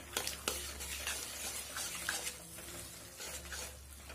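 Greens and pumpkin stalks stir-fried in a pan, giving a steady close hiss and sizzle broken by a few scraping stirs, with no talk.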